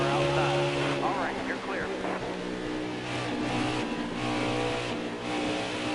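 A NASCAR race car in NASCAR Heat 4 drones at Chicagoland Speedway, its engine note holding steady with rising and shifting pitch over a continuous roar, and a voice talks over it.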